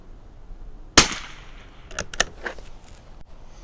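Mossberg 146BA .22 rifle fires one sharp, fairly close shot, followed by fainter metallic clicks and clacks of the action being worked.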